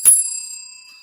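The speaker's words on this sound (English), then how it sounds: "Who rang that bell?" A single sharp ding from a small hand bell, rung close by and loud, with a bright metallic ring that decays steadily for about a second.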